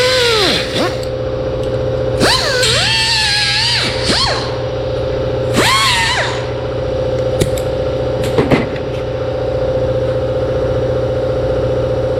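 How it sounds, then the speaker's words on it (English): Angle grinder used during a door repair in a workshop, spinning up in several close, loud bursts whose pitch rises and sags as it bites into metal, over a constant machine hum with a few sharp clanks. "Need to grind just a little bit right there."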